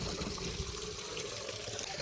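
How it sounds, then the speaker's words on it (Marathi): Water flowing from a pipeline fed directly from a well, where cows drink on a farm; a steady, close, continuous splashing trickle runs alone throughout. "पाणी डायरेक्ट विहिरीतून पाईपलाईन आहे गाईस गाय इथूनच पाणी पिती"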